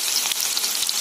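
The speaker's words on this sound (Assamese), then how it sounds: "অকমান টাইম পিয়াজ জ্বলাটো ৰাখিম" Onions frying in a pan with panch phoron for an Assamese pumpkin dish, a soft, steady close sizzle and crackle with no talk.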